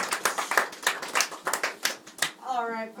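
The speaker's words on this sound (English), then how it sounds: "How about a big round of applause" Short burst of clapping from a small audience for a participant at a silver mine presentation, brisk uneven hand claps, ending as someone starts to speak.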